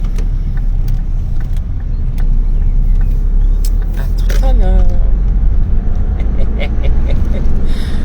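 Interior of a moving car with a steady low road rumble and engine drone throughout, with people talking over it close by.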